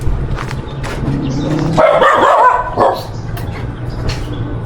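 A dog barks several times nearby, sharp yips and barks in a short burst over a steady outdoor background hum.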